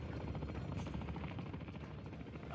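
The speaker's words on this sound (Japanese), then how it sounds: "ひたすらにヘリの音がうるさい。" Helicopter in the Call of Duty DMZ video game, a constant low rotor drone that fills the background at moderate volume, with faint scattered game effects on top.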